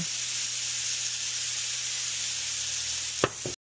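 An Oklahoma-style onion burger frying on a hot griddle, a loud, steady sizzle and hiss of steam and juices, broken near the end by a couple of sharp scraping clicks, likely the spatula, with no talk.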